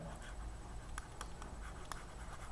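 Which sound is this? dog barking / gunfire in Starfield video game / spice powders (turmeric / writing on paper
writing on paper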